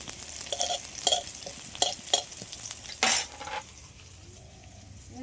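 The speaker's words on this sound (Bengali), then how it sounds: "এবার ফোড়নে দিয়ে দেবো শুকনো লঙ্কা আর তেজপাতা।" Dried red chilies and bay leaves go into hot oil in a pan for tempering, with a spoon stirring them. Several scraping clinks are followed by a brief loud sizzle, then a quieter, lingering fry.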